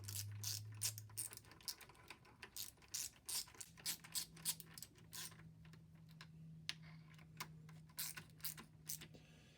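A socket ratchet clicks in quick uneven runs while tightening nuts on a tool post mount block for a Logan lathe, close and crisp, with a low steady hum beneath and no speech.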